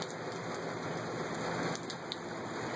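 Steady rainfall in Tucson, Arizona, with raindrops pattering continuously on surfaces, a dense even hiss with occasional sharper drips, heard alone at a moderate distance.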